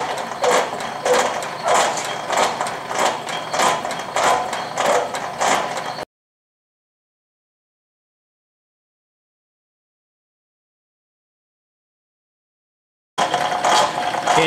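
A Rhodes metal shaper runs in a workshop, its ram stroking back and forth with the clapper box lifting, making rhythmic clanking and ratcheting cycles for about six seconds, then silence, then the mechanism resumes briefly.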